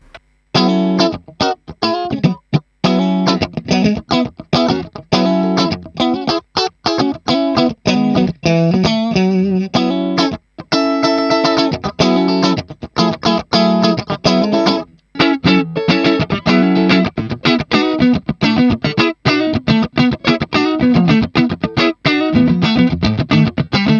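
A Stratocaster electric guitar played through a Hotone Ampero 2 modelling the boutique handwired ROOTS RA-2230 amp, with busy, continuous strummed chords and single-note runs, loud and alone.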